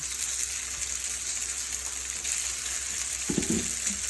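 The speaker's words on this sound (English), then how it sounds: "you can fry the noodles as long as you want" Noodles frying in a pan for shrimp and chicken lo mein, a steady close sizzle with a brief stirring clatter near the end and no talking.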